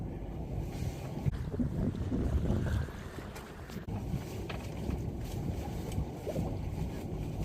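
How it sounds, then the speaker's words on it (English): Strong wind roars steadily across the microphone, a dense rushing buffet with occasional gusts and thumps, no other clear sounds. "there was so much wind going"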